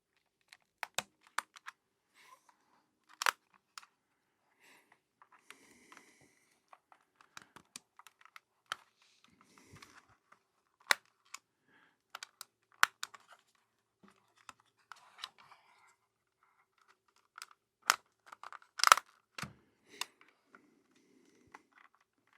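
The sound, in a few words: prying plastic trim piece off a game controller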